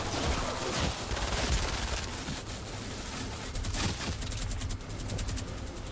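Rapid automatic gunfire from a fast-firing Founders gun in the video game Fortnite, played in Survival Mode, a dense continuous stream of shots at steady loudness with no talk.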